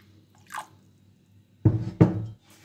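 A short burst of lukewarm water is poured into a bowl of batbout dough ingredients, a brief close splashing pour with a small drip just before it, in a quiet kitchen.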